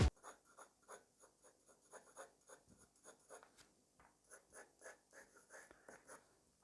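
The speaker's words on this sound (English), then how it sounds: "the sensation of moving the pencil across the paper" A pencil scratches across drawing paper in quick, rhythmic strokes, faint and close, each stroke a short dry rasp with brief pauses between.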